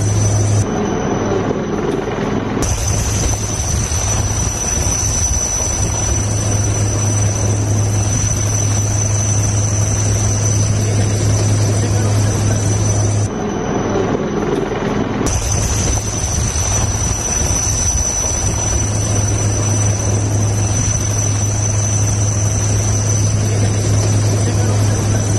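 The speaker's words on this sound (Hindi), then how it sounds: "ये देख रहे हैं आप, हेलीकॉप्टर से रेस्क्यू किया जा रहा है" A rescue helicopter hovers over floodwater, its rotor roar loud and continuous with wind buffeting throughout and brief dips where the noise cuts out.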